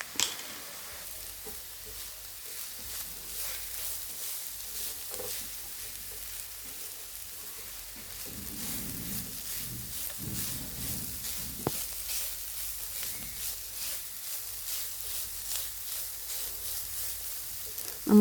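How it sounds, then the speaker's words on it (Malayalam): Grated coconut, garlic, finely chopped green chillies and cumin powder sautéing in a pan, heard as a continuous close sizzle with occasional soft stirring scrapes over it. "നമ്മൾ തേങ്ങയെല്ലാം വഴണ്ടിട്ടുണ്ട്"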